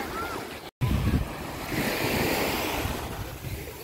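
Stormy sea surf splashing and rolling onto a beach, a steady loud wash of waves with wind buffeting the microphone, broken by a brief dropout near the start.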